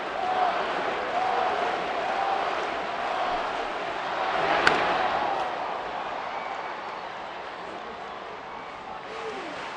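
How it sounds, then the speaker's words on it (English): Baseball stadium crowd in Anaheim chanting Bobby Abreu's name during a Rangers–Angels game, a steady dense roar of many voices filling the whole stretch, swelling slightly in the middle with a brief sharp accent. "Crowd chanting Abreu's name."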